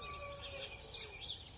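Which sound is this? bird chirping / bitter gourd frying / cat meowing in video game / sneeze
bird chirping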